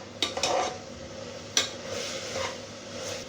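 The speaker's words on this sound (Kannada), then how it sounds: "ಈರುಳ್ಳಿ, ಕ್ಯಾಪ್ಸಿಕಮ್, ಟೊಮೆಟೊ ನೀಟಾಗಿ ಮಿಕ್ಸ್ ಆಗಬೇಕು. ಹಾಗೆ ಫ್ರೈ ಮಾಡ್ಕೊಳ್ಳೋಣ." Onion, capsicum and tomato fry over a high flame while a spoon scrapes and clinks against the pan in a few sharp strokes, with a soft sizzle running underneath.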